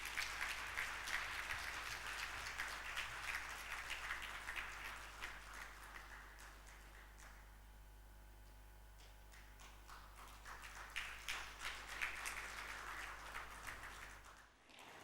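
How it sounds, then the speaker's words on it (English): Audience applause closes a bar association's annual lecture, a dense patter of clapping that dies away to near quiet in the middle. A second round of applause builds again before stopping suddenly. "Another round of applause."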